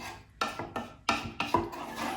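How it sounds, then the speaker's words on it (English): A spoon stirs tomato sauce with seasoning, a bay leaf and sugar in a pot, making six or so scraping, rasping strokes in an uneven rhythm, close and moderately loud with no talking. "Just gonna give that all a little mix."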